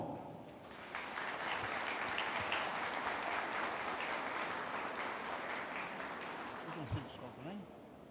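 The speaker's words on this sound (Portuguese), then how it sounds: "por favor, uma salva de palmas" Applause from an audience at a credit cooperative's annual general assembly swells after a quiet start and holds steady, then fades out, with a voice talking briefly near the end.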